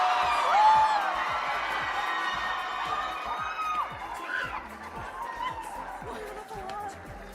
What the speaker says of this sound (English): Let's hear a round of applause for All Courts a cappella.